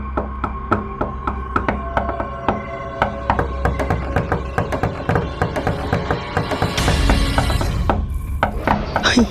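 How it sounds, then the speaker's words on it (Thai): Rapid, insistent knocking on a door in a Sakura School Simulator cartoon, a dense run of sharp wooden raps that grows louder and more frantic toward the end, with no voices over it. "เสียงเคาะประตู ใครมาเคาะประตูผ่านนี้เนี่ย"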